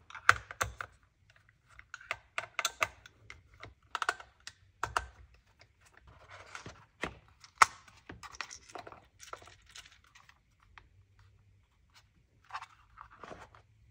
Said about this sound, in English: First thing you're gonna remove, there's 4 Allen screws on the back of the radio.